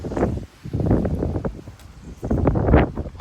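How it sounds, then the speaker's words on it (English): Strong gusts of wind rushing through backyard fences during a severe weather outbreak in Frisco, Texas, roaring in uneven surges with short lulls, close to the microphone and buffeting it. "You can hear the wind going through the fences."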